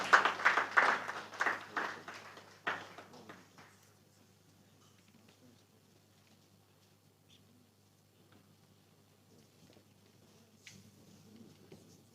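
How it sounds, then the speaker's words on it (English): A burst of applause from a conference audience at a public-private partnership forum in Nigeria, clapping loudly at first and then fading away into near silence. "Please, a round of applause for him."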